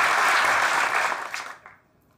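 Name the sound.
audience applause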